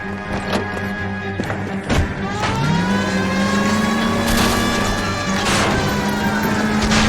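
A car smashes through backyards in the video game L.A. Noire, its engine droning and rising steadily in pitch while sharp crashes and whacks break in early on over a constant loud, busy game mix.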